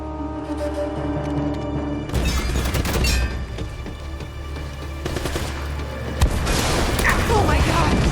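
A rocket launcher blast in the video game Uncharted: Drake's Fortune: a steady hum breaks into loud bursts of gunfire and booming impacts, with a sharp explosive crack late on followed by clattering debris.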